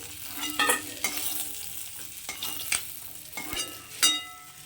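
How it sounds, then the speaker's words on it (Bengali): Small puti fish fry in oil in a wok with a continuous crackling sizzle, broken by repeated scraping stir strokes and clatter, close and moderately quiet. "মাছগুলো আমি লাল লাল করে একটু কড়া করে ভেজে নেবো"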